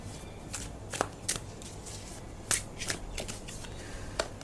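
Tarot cards are shuffled by hand in a quiet room, soft riffles and sharp flicking snaps at irregular intervals over a faint steady hum.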